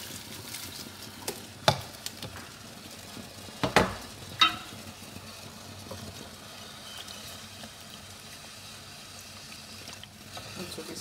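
Homemade shampoo mixture being stirred after soap is added, a soft wet swishing and sloshing with a few sharp clinks of the spoon against the container, close and fairly quiet, no voices.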